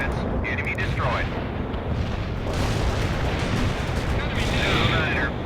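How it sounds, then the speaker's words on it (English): Artillery shells landing in the World in Conflict video game, a dense continuous rumble of explosions and booms with radio-style voices talking over the barrage, loud throughout. "Zulu Niner, we copy. Firing for effect. Over. This is Zulu Niner. Coordinates locked down. Shells on the way."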